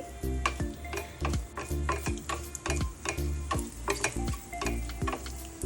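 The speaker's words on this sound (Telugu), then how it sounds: "ఆయిల్ వేడైన తర్వాత మినప్పప్పు ఆవాలు ఒక ఎండుమిరపకాయ తుంచి వేసుకోవాలి" Urad dal, mustard seeds and a broken dried red chili frying in hot oil in a pan for a Rayalaseema garlic chutney tempering, with close, steady sizzling and repeated sharp scraping stir strokes in a regular rhythm.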